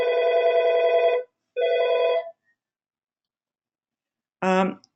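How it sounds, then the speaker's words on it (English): Two long electric bell rings from a telephone or similar bell, separated by a short gap, then a brief ringing burst after a pause, steady, tonal and fairly loud in the background of a webinar. "Sorry about the ringing bells back here."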